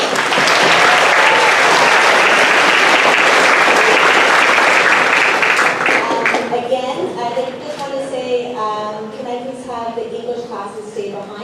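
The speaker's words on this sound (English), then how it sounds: "can we give a round of applause to our MCs, please?" Audience applause at a high school spoken word poetry event for grades 9-12, loud and dense for about six seconds, then thinning to scattered claps with voices and cheers breaking through.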